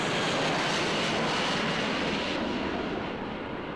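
An airplane passes overhead, a broad, steady roaring rush of engine noise that fills the clip and slowly eases off toward the end, with no voices.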